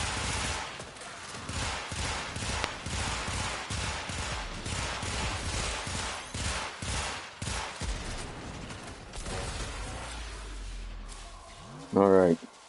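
Suppression gunfire in the video game Warframe: rapid, repeated bursts of shots hammering steadily for most of the stretch, then dropping away before a short, sharp tone near the end.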